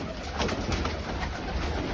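Pigeons cooing in a loft kept for pairing and breeding, a steady low murmur of overlapping coos running throughout, fairly close, with no talking.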